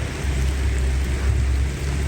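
Gentle rain falls outdoors on a chilly day at a construction site near a fence, a steady dense broadband hiss with low rumble underneath, continuous and even throughout.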